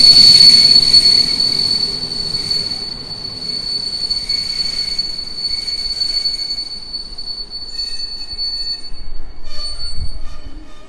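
A PKP Intercity express passes through Warsaw West station, its wheels squealing in a high, sustained metallic whine over the rumble of the rolling cars, fading slightly as the train moves on.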